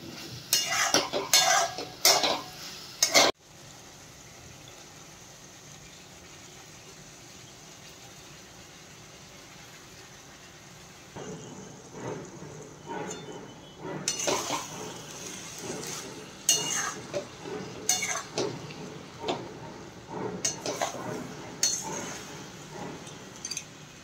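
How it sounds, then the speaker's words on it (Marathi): Cooked rice being stirred into a vegetable pulao in a pan: a few sharp spoon scrapes and clinks at the start, a quieter stretch, then repeated scraping and stirring with utensil knocks against the pan. "त्याच्यामध्ये आपण हा शिजवलेला भात आहे तो भात घालून हलवून घ्यायचं चांगलं"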